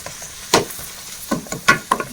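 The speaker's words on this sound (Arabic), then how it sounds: "هاي سخنت الزيت، نزيدو البصل" Onion going into hot oil in a pan for a chicken and béchamel bourek filling, a soft sizzle broken by a few sharp stirring clinks, close by with no voices.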